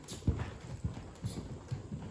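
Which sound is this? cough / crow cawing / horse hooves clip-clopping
horse hooves clip-clopping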